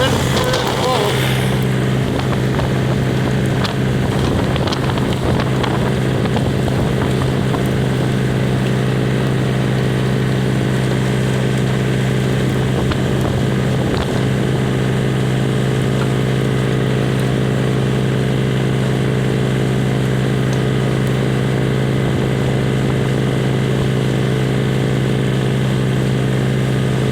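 Wind blowing steadily outdoors in snow, a continuous broad roar with gusty buffeting that runs unbroken for the whole stretch.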